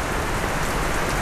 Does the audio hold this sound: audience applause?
no